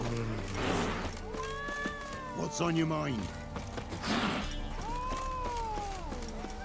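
Cats meowing in the video game The Witcher 3, several drawn-out, rising and falling meows and yowls at moderate volume, with a voice talking over them.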